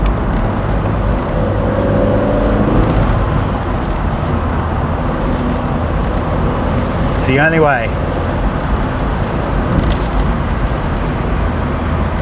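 A car driving on a road during a time trial, its engine and tyre noise a steady loud drone throughout, with a person talking over it and a brief passing sweep midway.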